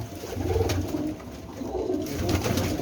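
Fancy-breed pigeons, such as Teddy and Ferozpuri, coo softly in a close, repeated rhythm of low throaty calls.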